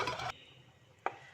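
A lid goes back onto a pot of Kerala-style spicy king fish curry, first a metallic rattle of the pot, then a single sharp clink as it settles, close and quiet, with no talking.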